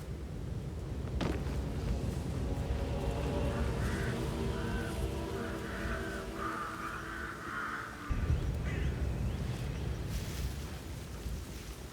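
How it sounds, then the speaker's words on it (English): Crows caw repeatedly in the Dartmoor level of the video game Hitman 2. The harsh calls sound in a cluster over a steady wind-like outdoor ambience, and the ambience continues alone after the birds stop. "I'll never get rid of those stupid birds."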